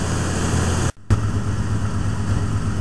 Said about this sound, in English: once it gets going, as you can see, on fast idle it runs very smooth